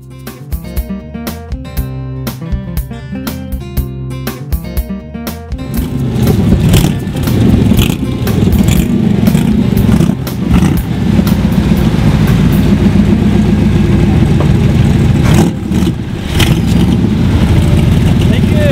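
Ford Mustang GT cars drive on a 2013 rally ride in Connecticut, with loud, sustained engine roar and revving close by, following a short stretch of music at the start.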